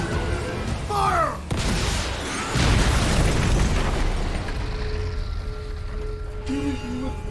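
RPG fire and explosion in Metal Gear Rising: Revengeance, a loud burst followed by a long rumbling boom that fades slowly, with other game effects and short tones around it.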